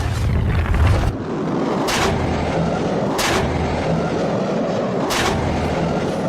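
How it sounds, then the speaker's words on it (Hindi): Repeated explosions from cluster bombs fired by Iran on Israel: a continuous deep rumble with several sharp, loud bursts spaced a second or so apart, heard without talk. "जरा देखिए कैसे चलता है ये क्लस्टर बम"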